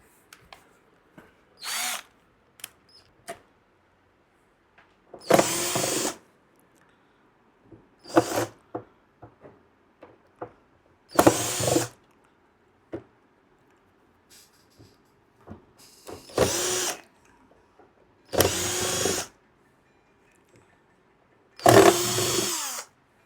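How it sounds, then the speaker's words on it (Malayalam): An electric screwdriver backs screws out of a Sony SS-WP7M speaker, six or seven short loud buzzing whirs of a second or two each, separated by quiet gaps with faint handling clicks. "ഇനി ഇവിടെ സ്ക്രൂ അഴിച്ചെടുക്കണം ഇത് സൈഡിൽ സ്ക്രൂടെ മൊത്തം"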